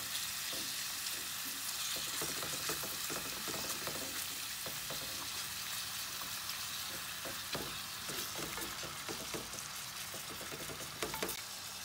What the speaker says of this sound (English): go ahead and add my shrimp to the pan